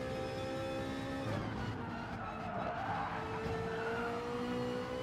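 Gr.3 race cars lapping Fuji International Speedway in Gran Turismo Sport, with a Ferrari and a Ford among them. Engines drone steadily, and a long tire squeal rises through a corner at moderate loudness, with no talk.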